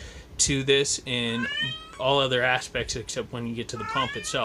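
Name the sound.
cat meowing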